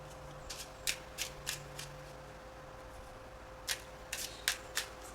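Oracle cards shuffled for a reading, a series of short crisp riffling and snapping bursts in two clusters, close and moderately loud over a quiet room hum.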